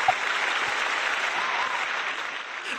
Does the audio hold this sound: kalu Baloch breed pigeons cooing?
no